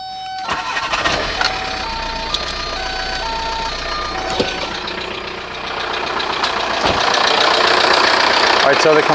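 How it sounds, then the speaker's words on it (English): A running 1998 VW Jetta TDI diesel engine, with its A/C compressor engaging during a recharge, gives a steady close engine drone and a rising series of electronic beeps. The noise grows noticeably louder partway through. "the compressor just kicked on. It's drawing refrigerant into the system"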